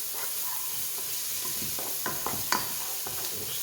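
Three cloves of chopped garlic sizzle in a pan over lowered heat. A soft, steady frying hiss is broken by a few light stirring clicks; faint and close, with no talking.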